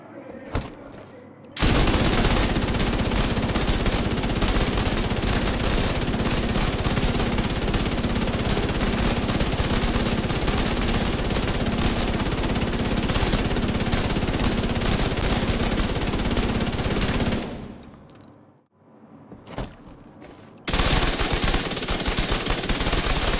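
BulletKing machine gun in The Division 2 fires long sustained automatic bursts, loud and continuous, broken by a short pause near the end before the fire resumes.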